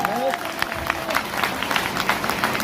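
Audience clapping at a leadership business seminar, dense scattered applause from a crowd, steady and fairly close, with a voice heard briefly at the start.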